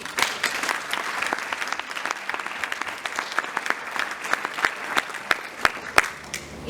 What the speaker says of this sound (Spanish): Les pido un gran aplauso para él.